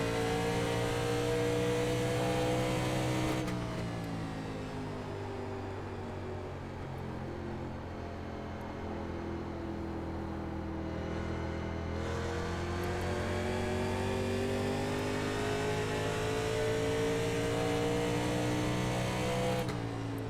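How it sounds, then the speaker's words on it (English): A race car engine drones loud and steady as the car leaves the pits at Phoenix Raceway in an iRacing NASCAR Legends 1987 event, the pitch shifting with gear changes and building again over about twenty seconds, with no voices. "Car coming out of the pits."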